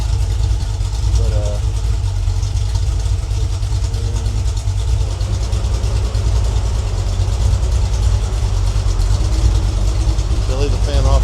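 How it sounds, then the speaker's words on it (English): A freshly rebuilt 302 engine idling on its first break-in run, a steady low rumble at about 700 to 800 RPM, close and loud throughout, with a person talking over it. "looks like we got about 700, 800 RPM idle"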